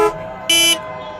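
Car horn honks sharply in stopped traffic, one short toot then a longer loud blast over steady road noise and engine hum, heard from inside a waiting vehicle.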